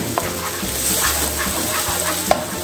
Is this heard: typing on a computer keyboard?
no